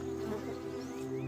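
Soft, steady buzzing of bees feeding on flowers, a continuous droning hum heard close and quiet over the brief moment, with no voices.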